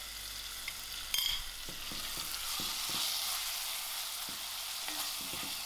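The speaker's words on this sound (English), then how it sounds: "I'm going to allow this mince to come to the fry." Lamb mince fries in a pan for stuffed cabbage, giving a steady, close sizzle throughout with a few sharp spatters and light scraping clicks near the start.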